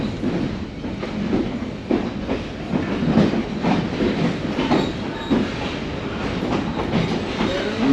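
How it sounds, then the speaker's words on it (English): An Essex steam train rolling past very close, steady clickety-clack of wheels on rail joints with rumbling carriages and faint squeals, continuous and loud without talk. "You see how close that train is to us as we're moving?"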